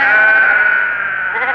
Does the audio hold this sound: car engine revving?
no